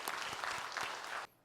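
Congregation at a prayer meeting applauding warmly: a brief burst of dense, lively clapping from a crowd that stops abruptly near the end.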